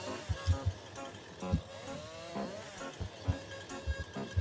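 Chainsaw running at a farm during tree cutting along a field edge, a quiet, distant buzzing drone with repeated pulsing bursts throughout.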